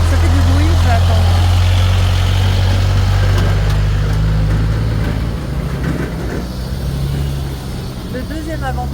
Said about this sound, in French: je me range parce qu'il y a une voiture